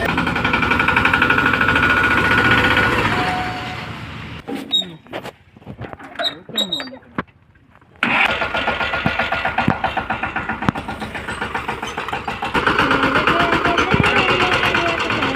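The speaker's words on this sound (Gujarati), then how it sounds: "મિત્રો બધા ટ્રેક્ટર કાઢે છે." A tractor engine runs loud and close as people work to free a stuck vehicle and cart. The steady rumble fades into a quieter stretch of clicks and knocks midway, then surges back and holds strongly to the end, with faint voices underneath.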